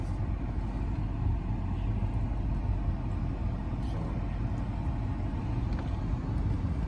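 A Porsche Panamera 970 backing out of a home driveway into the street, heard as a steady low engine rumble and road noise from inside the car, continuous and even with no talk.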